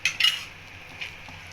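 Metal spoon scraping and clinking against a pan while thick carrot halwa is stirred, with two sharp scrapes at the start and softer stirring after.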